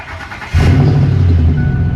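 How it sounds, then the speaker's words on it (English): A Ford F150 pickup truck engine cranks and catches with a sudden low rumble, then settles into a loud, close, steady idle. "So fire your truck up"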